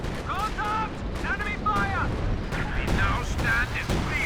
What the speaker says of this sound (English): Some big artillery coming in the back lines